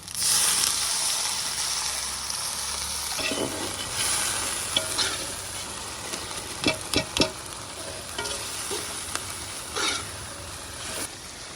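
Onions fry and sizzle in a pan in a village mud-house kitchen while a spoon stirs in spice mix, with steady frying hiss and several sharp clinks and scrapes of the spoon.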